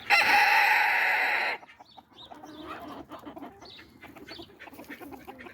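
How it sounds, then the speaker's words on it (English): Chickens on a home flock on a snowy morning: one loud, close rooster crow that cuts off abruptly, followed by scattered soft clucks and bird calls at moderate distance. "those roosters are going at it"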